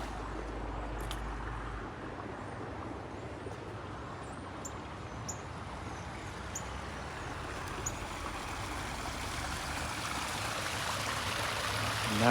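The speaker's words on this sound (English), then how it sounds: "Now this is the only running water we got coming through here" Water trickles steadily through an old red-brick canal in Kansas City, a soft continuous wash that stays even and fairly faint throughout, with no talk.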